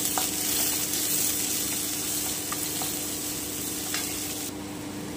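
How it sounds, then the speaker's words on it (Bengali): Chopped onion fries lightly in a pan, giving a steady, close sizzle with a few faint scrapes and stirring clicks, with no talking. "আমি কুচনো পেঁয়াজটা দিয়ে দিচ্ছি, আমি হালকা করে ভেজে নেব একটু"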